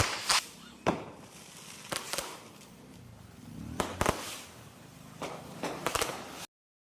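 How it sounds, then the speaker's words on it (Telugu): Diwali firecrackers go off in sharp, scattered bangs along a residential street, some near and loud, others fainter, with a rustling background between the blasts. "మా వీధిలో అందరం కూడా ఒకేసారి టపాసులు పేల్చుకున్నామండి"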